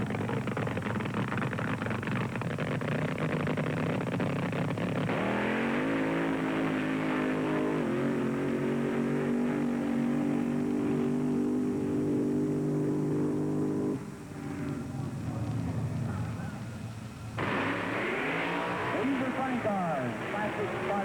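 Nitromethane-fuelled 1971 funny car drag racers at the starting line at Ontario Motor Speedway: a loud, continuous engine roar with rising revs that swell and drop several times, heard close and unbroken throughout.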